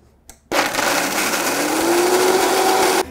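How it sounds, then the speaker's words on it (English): A blender grinds blanched almonds with sugar into flour: it kicks on abruptly after a brief pause, runs as a loud, steady whirring roar whose pitch slowly climbs as the mix breaks down, then cuts off. "In a blender, 3/4 cup of blanched almonds, 3 tablespoons of sugar."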